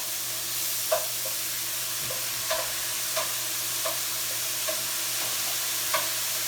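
Chicken for fajitas sizzling and frying in a pan, a steady broadband hiss with soft periodic clicks and stirring scrapes about every half second to second, moderately close and with no talking.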